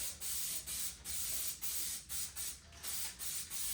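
Brake cleaner hisses from an aerosol can onto a bicycle fork in about eight short, quick bursts, evenly spaced and fairly faint, with no talking.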